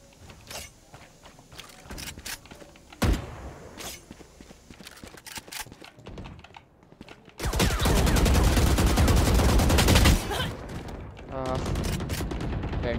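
Random gunfire in a video game, with scattered single shots and footsteps at first, then a loud sustained automatic barrage lasting a few seconds, followed by further bursts.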